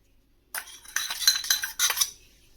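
A spoon works flour, sugar and a little salt into a thick paste in a bowl for chocolate pancake batter, giving several close scraping, clinking strokes in quick bursts after a short silent start.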